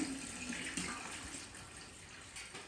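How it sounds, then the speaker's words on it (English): Tap water runs steadily into a stainless steel pot, a soft, continuous splashing rush that stays faint and even throughout. "So you just get a nice stainless steel pot and you fill your water up."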